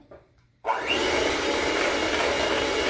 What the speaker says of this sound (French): Je vais mélanger aussi tout ça avec mon batteur.